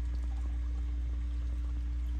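Extra water spills out of a turtle tank's overflow pipe in a continuous, steady pouring stream. It stays close and even throughout, over a low constant hum, with no talking.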